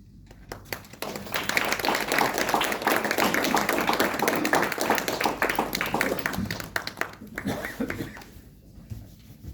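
Theatre audience applauding after a Bangalore Little Theatre performance, a dense, steady wash of many hands clapping that swells and holds for several seconds before thinning out near the end.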